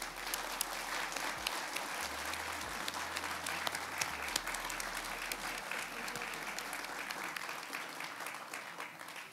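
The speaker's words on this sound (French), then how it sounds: "Et je vous invite à les applaudir pour leur engagement" A crowd at a mayor's address applauds in a sustained, even burst of many hands clapping, steady and moderately distant throughout.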